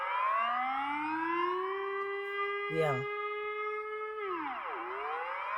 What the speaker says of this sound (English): that's like 3 alarms going off at the same time